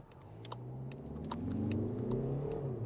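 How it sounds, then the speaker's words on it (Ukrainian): A 2025 Skoda Kodiaq diesel pulls away from a standstill, its engine note climbing steadily from a low rumble into a louder, rising drone under acceleration, heard from inside the car with a few faint clicks. "Дизельок зразу з самих низів підтягується, але дуже повільно."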